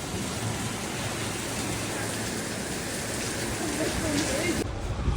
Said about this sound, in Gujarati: જોરદાર વરસાદ આવી રહ્યો છે